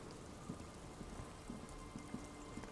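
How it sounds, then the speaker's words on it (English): Steady rain falling in the Disco Elysium video game, a soft continuous hiss of drops with scattered faint patters on surfaces, quiet and even throughout with no voices. "It's getting late, and it's raining."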